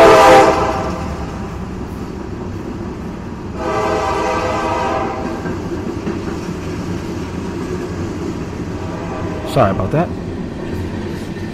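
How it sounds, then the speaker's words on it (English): A train passes close by, sounding its horn loudly at the start and again partway through, with steady rumbling wheels and engine throughout and a person speaking briefly over it. "we have the train coming by"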